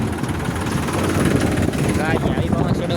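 An old, worn-out tractor engine runs steadily on a farm, a continuous low rumbling chug that stays loud and close throughout, with a person talking over it.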